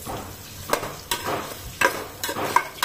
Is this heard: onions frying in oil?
yes